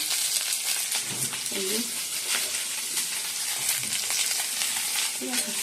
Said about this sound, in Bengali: এদিকে চিকেনগুলো ভাজি দিয়ে দিচ্ছি